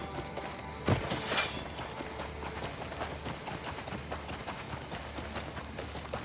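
Horse hooves clip-clopping at a steady walking rhythm in the video game Crimson Desert, moderately close, with a brief louder whoosh near the start.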